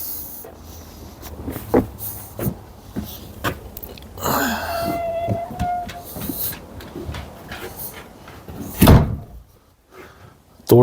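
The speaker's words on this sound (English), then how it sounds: "Door kind of sticks at the moment," Sticking door forced open: a series of knocks and thumps, then a long scraping squeal as it drags, ending in a loud bang near the end, close by.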